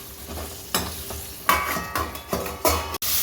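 Green chillies fry in hot oil with a steady sizzle, broken by several sharp metal clinks and scrapes of a spoon stirring the pan, close up and with no talk.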